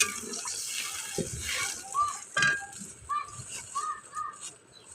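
Water is poured into a hot pan with oil while a fish curry is being cooked, giving a hissing splash with clinks of the spatula, close and moderately loud, with a voice briefly in the background.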